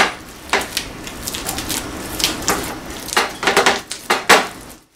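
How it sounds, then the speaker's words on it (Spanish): Ingredients for gordas, such as beans, garlic and chiles, being ground by hand on a stone metate, a series of irregular scraping and knocking strokes, close and fairly loud, with no talk. "Lo molemos"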